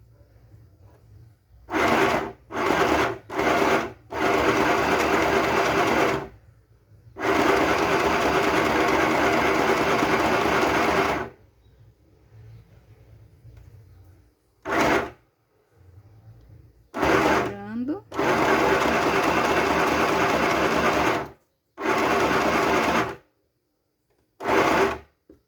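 A small home sewing machine stitches fabric for a cloth bow in repeated bursts, short runs and longer steady whirring stretches separated by pauses, with faint handling noise between runs.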